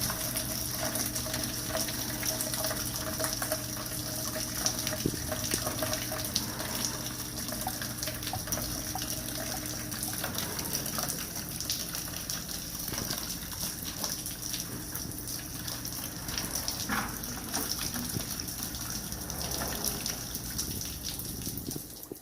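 Coolant drains steadily from a Dodge Caravan engine during a water pump replacement, a continuous splashing liquid gush that runs unbroken throughout with no talking.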